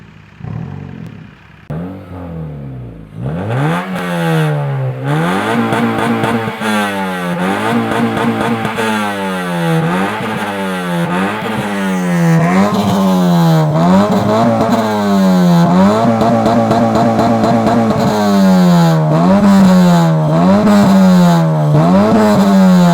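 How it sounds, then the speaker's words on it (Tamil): A restored and modified Honda Civic revs through its exhaust, with repeated rising and falling engine blips in a regular rhythm, loud and close, growing slightly stronger toward the end with no talking. "எக்ஸாஸ்ட் நோட் நான் உங்களுக்கு காட்டுறேன்."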